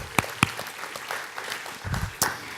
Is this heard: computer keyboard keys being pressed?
no